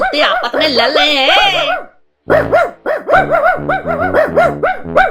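Two cartoon dogs fighting in an animated short, with loud, voiced barks and growling yelps that come in rapid, overlapping bursts, broken by a brief pause.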